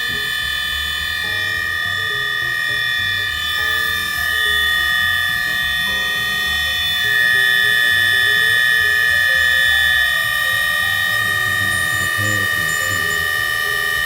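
A rebuilt fuel distributor from a 1983 Lotus Esprit Turbo runs a steady full-throttle flow test on a bench, giving a constant mechanical whine with layered tones and a continuous churning hum that never lets up.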